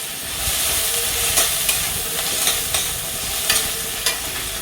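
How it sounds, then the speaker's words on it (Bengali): Onions and garlic fry in hot oil in a pan for a mixed vegetable curry, giving a steady close sizzle broken by several sharp scrapes and clicks of stirring, with no voices. "ভালো করে পেঁয়াজটা ভেজে নিয়ে"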